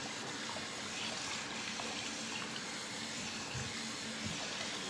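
Tap water runs steadily for hair washing, a constant soft hiss of flowing water with no voices over it.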